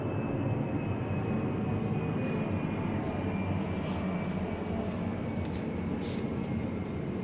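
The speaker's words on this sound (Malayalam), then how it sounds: "എത്ര താഴ്ന്നിട്ടല്ലേ വിമാനം പോകുന്നത്" An airplane passing low overhead gives a continuous, loud, broadband roar that holds steady for several seconds, with a faint high whine running through it and no talk.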